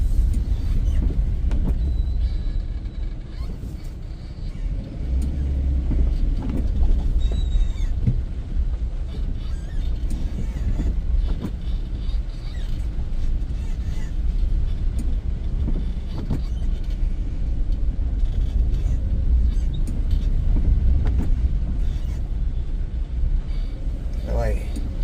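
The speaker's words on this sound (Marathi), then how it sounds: "गाडी जशी खड्ड्यात जाईल ना तुम्हाला आवाज कॅप्चर होईल खड्ड्यातून गेल्याचा." A car drives along a potholed, rain-soaked road in Nashik, with a steady rumble of tyres and suspension and scattered thumps and rattles as it drops into holes. Someone talks over it throughout.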